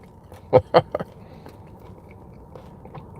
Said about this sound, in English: Hear that bacon crunching, man?